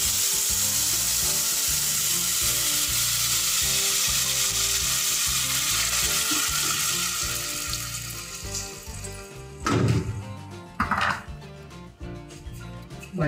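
Blended tamale sauce for chipilín tamales with dried shrimp hits a hot pan with a loud, steady sizzle that gradually eases, followed by a few clattering scrapes and stirs near the end.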